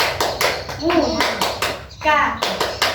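Children's voices chant together in rhythm, broken by bursts of group clapping in a quick patterned beat of the Indonesian scout clap, tepuk pramuka.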